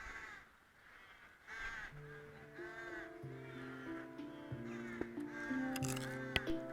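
Crows caw repeatedly in a park, harsh calls coming in overlapping bursts throughout, some near and loud, others farther off, with soft background noise and no talk.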